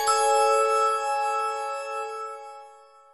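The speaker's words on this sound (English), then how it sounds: "When you hear the chimes ring like this," A single bright chime rings out clearly on its own, its clean tones sustaining and slowly fading over about three seconds.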